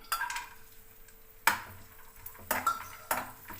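Raisins and cashews fry in ghee for a pumpkin halwa, heard as faint sizzling. Metal spoon clinks and scrapes against the pan come through clearly.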